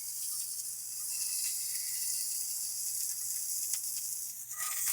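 Prawns fry in a hot cast iron pan, giving a continuous close hiss and crackle that stays steady and fairly loud, with a few brief pops near the end.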